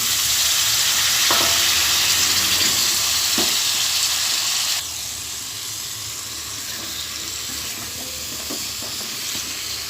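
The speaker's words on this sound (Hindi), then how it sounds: "अच्छे से तमाम चीज़ों को इसमें मिक्स कर लें मसाले के साथ, यानी कि आलू, टमाटर और मसाला।" Potatoes, chopped tomato and spices fry in hot oil for an aloo salan, giving a loud, steady sizzle and hiss throughout, with a few soft scrapes of stirring; the sizzle drops slightly partway through.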